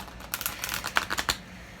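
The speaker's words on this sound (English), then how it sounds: "I'm shuffling. These decks aren't that big, so I can shuffle them." Rapid, crisp riffling clicks of small tarot card decks being shuffled by hand, close up, in a quick burst of about a dozen snaps with no talk.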